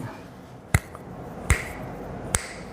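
Three sharp, crisp finger snaps ring out roughly a second apart, close and distinct over quiet room tone.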